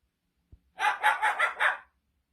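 A pet bird mimics a dog's bark, giving a quick run of five rapid bark-like calls close to the microphone after a single soft click.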